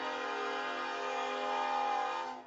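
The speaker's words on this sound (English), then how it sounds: "we're gonna watch this train here in Leeds" A train horn blowing in Leeds, Kansas City, one long, steady, sustained blast at moderate distance, holding evenly before cutting off, with no talk.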